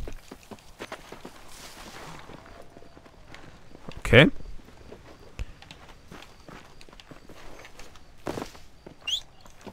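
Horse hooves clip-clop in the Red Dead Redemption video game, scattered moderate steps across the clip with brief speech and a louder burst near the middle.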